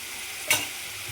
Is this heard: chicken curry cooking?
yes